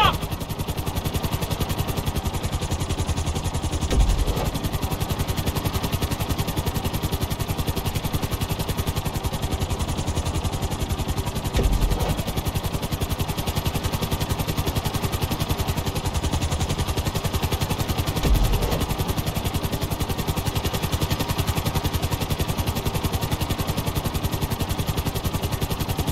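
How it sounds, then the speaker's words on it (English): A helicopter in GTA 5 flying and touching down on a helipad: a loud, steady rotor-and-engine drone fills the scene throughout, with a few brief thumps along the way. "Bring the helicopter down gently onto the helipad."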